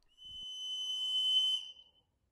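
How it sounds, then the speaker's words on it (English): A homemade whistle carved from scrap wood gives one steady, piercing blow lasting about a second and a half, close and clear, with a faint knock just before and no voices. "Only about a week after I built that whistle"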